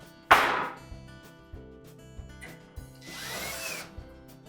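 A power drill drives a retaining screw into a Maytag dryer panel during a blower wheel repair, starting with a loud sharp burst, then softer taps and a second whirring run of the drill, heard alone and close.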